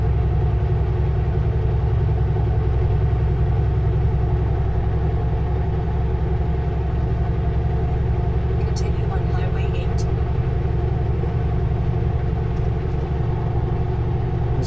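A car drives at 50 km/h on Highway 8 after a massive flood. A steady engine rumble and road noise fill the cabin, loud and continuous, while someone talks over it.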